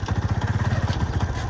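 A motorcycle engine runs close by with a steady, rapid chugging idle throughout a short burst.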